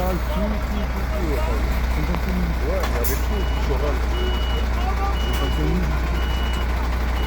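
Steady electronic reversing beeps repeat over a loud idling truck engine during a French heavy-truck driving test, with people talking nearby throughout.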